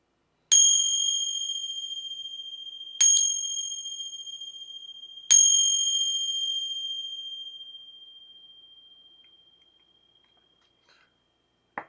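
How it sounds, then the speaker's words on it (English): A small bell struck three times at spaced intervals, each clear ring sustaining a bright steady tone that slowly decays into near silence, close and alone. "Gonna ring some bells here to connect."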